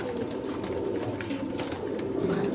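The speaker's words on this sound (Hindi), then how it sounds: "ये नस्ल है सियालकोटी माशाल्लाह जी बटेरे कबूतर।" Sialkoti pigeons coo softly and repeatedly nearby, a low rolling murmur that continues throughout with faint background noise and no talk.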